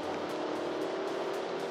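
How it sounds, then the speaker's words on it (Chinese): A 2020 Subaru XV GT Edition climbs a wet mountain road in the rain, its engine a steady, muffled drone heard from inside the cabin, with no clear change in pitch. "我一踩油，它就马上降档"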